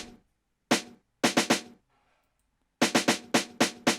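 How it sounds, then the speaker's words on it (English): Amapiano snare programmed in FL Studio and played alone: sharp, bright hits in uneven groups with a gap of silence between phrases, dry and close, no voices. "But let's play the snare alone."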